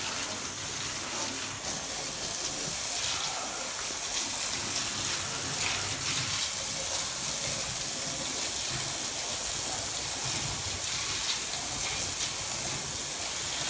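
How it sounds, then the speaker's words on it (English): A garden hose sprays a steady, hissing stream of water while washing out a cattle trailer, close and continuous, with an engine idling faintly in the background. "I'm almost done spraying this out, hosing this out."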